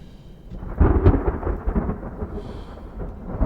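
A deep thunder rumble swells and rolls for a few seconds ahead of a heavy downpour, the low roar broad and sustained over a faint hiss of rain, with no voices.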